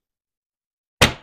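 After a moment of silence, a single sharp snap as a craft punch board is pressed down, ringing briefly before fading.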